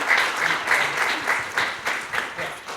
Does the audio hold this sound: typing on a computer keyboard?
no